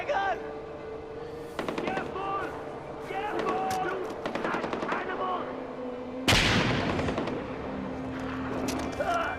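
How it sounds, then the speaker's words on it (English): A stun grenade going off in the video game Far Cry 4, a sharp loud burst among repeated gunfire and explosions, with someone talking over the combat. "Oh, stun grenade. It's not popping smoke."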